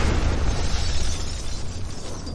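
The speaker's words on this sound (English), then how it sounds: "There was an explosion." A loud, sustained explosion rumble fills the space with heavy low boom and dense crackling debris noise, steady and close throughout with no voices.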